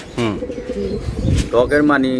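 Pigeons coo nearby in soft, repeated throaty calls, with a person speaking over them.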